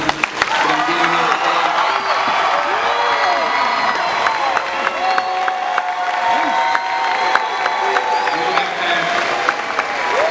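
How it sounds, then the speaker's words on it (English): A graduation crowd at a 2017 Gar-Field High School ceremony in Virginia claps, cheers and whoops loudly and continuously, with voices and shouts mixed into the dense applause. "I want the crowd to give them the loudest round of applause you can"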